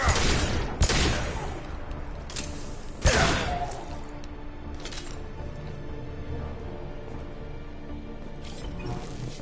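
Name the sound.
grenade explosion and gunfire in Mass Effect video game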